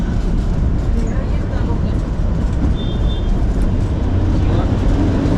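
The Shimla to Kalka toy train rumbles along with a loud, continuous low-pitched roar and rattle heard from inside the carriage, steady throughout with faint voices mixed in.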